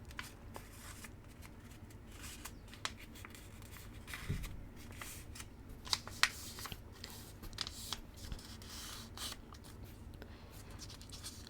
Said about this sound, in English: Take that piece of paper and fold it in half lengthwise so that it forms a rectangle shape.